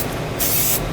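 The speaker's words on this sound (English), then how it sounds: "I sprayed both sides." A one-second hiss of contact cement sprayed from an aerosol can, close and fairly loud, swelling into a brighter burst midway through, with no talking.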